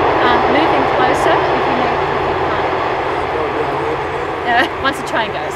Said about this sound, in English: Once the train goes.